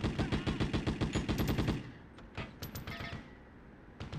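Rapid bursts of assault rifle fire from a PlayStation 1 video game, loud and close, rattling steadily for nearly two seconds before breaking into shorter, thinner volleys with brief pauses.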